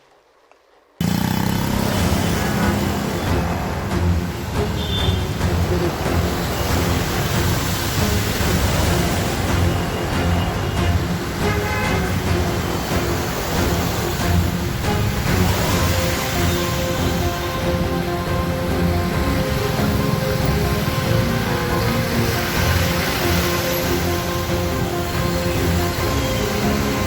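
Floodwater filling a street after heavy rain in Hyderabad, heard as a dense, continuous rushing roar like surf, with traffic-like rumble mixed in, starting abruptly after a brief quiet moment and running steadily to the end.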